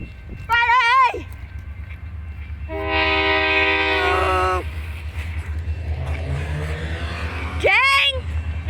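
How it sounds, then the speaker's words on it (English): Train passing outdoors, horn sounding in several loud blasts with a rumbling roll beneath, close by; voices can be heard over it. "here comes the train, guys. It's coming."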